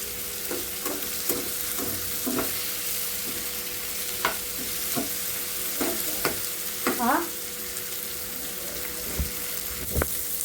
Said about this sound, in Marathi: फुल गॅसवर यांना चांगलं असं लालसर करून भाजायचं